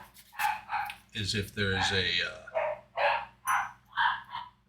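Dogs bark in a rapid run of close, loud yips and woofs, repeated about every half second, mixed with a person talking over them.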